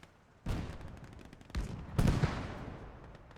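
Gunfire in Gates of Hell as shots are pumped at infantry: a few sharp bursts of firing, the loudest near the end, over a low battlefield rumble.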